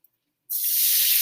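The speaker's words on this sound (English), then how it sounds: "We're going to get a little bit of water on this pan to help steam the top." After a brief silence, water hits a hot Blackstone griddle beside frying eggs and bursts into a loud, sustained sizzling hiss of steam that continues to the end.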